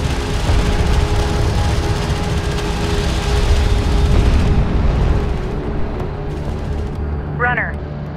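An armored vehicle explodes in the real-time strategy game Homeworld: Deserts of Kharak, a loud rumbling blast amid ongoing battle noise that thins out, with a brief high chirp near the end.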